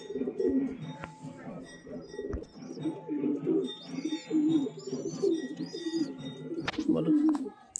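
Pigeons coo in repeated soft, throaty pulses close by, with occasional chirps and faint voices in the background.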